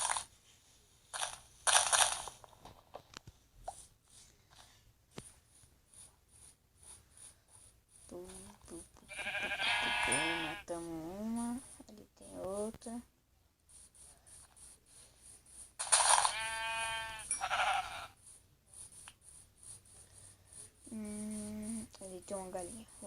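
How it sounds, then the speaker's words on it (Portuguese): Sheep in the Minecraft video game give several short, nasal, warbling bleats in separate bursts. They are spaced apart between quieter stretches of game sounds. "Matar aquelas ovelhas ali que eu tô vendo."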